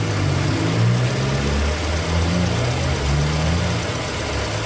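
Fiat Palio with about 99,600 km and a noisy timing belt idling steadily, a loud close engine drone with an uneven low rumble and faint knocking throughout, no voices.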